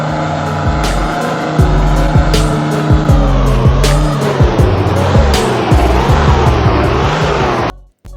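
Close-range car crash on a road with two cars colliding: a loud, continuous roar of engine and screeching tires, broken by repeated sharp impact transients, ending abruptly.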